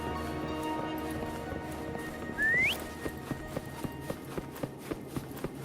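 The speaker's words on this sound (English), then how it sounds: "Why don't you call Foam over? Try whistling." A rising whistle in the Wuthering Waves video game, blown to call a mount, sweeps upward once in a short clear burst over steady game music, followed by faint rhythmic hoofbeats as the mount approaches.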